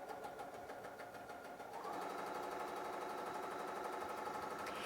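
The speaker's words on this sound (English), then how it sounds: "it's going to do a line of stitching next to each other all the way until it reaches the other side of the presser foot" A BERNINA 880 sewing machine runs a mending stitch, a steady mechanical whir that gets louder and fuller partway through and keeps running evenly with no talk over it.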